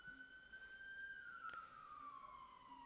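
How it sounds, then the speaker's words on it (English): Emergency vehicle siren wailing outside, a steady rising and falling tone that sweeps down as it passes by, moderately loud and continuous throughout. "Sorry about the siren, going to talk over it."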